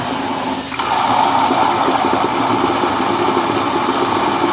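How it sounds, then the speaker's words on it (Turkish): An Arçelik 3650 washing machine takes in water through its liquid detergent drawer, a steady loud rush of flowing water over a low mechanical hum, starting just under a second in and continuing evenly. "Sıvı deterjan alma yeri çalışıyor."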